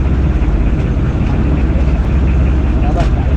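A boat's motor runs steadily and loudly at night, a close, continuous low rumble and drone with no letup, and a voice may be mixed into the noise.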